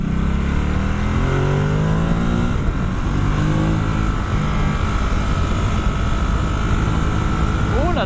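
A Ducati Supersport S motorcycle engine accelerating hard at full throttle, a loud close roar with rising pitch sweeps through the gears and heavy wind rush, with a voice talking over it.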